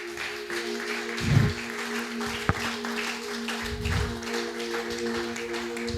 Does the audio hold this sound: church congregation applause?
yes